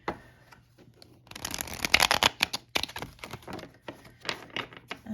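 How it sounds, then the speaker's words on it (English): Tarot cards being shuffled up close, a dense riffling flutter followed by lighter irregular flicks and taps of the deck. "let's just do one more little shuffle here"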